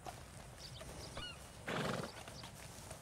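A horse in the video game Red Dead Redemption 2 gives a loud, breathy whinny amid soft hoof clip-clops and faint ambient game sounds, with no talking.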